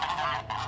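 A goose gives a loud, nasal honk up close, one sustained call that dips briefly and then resumes.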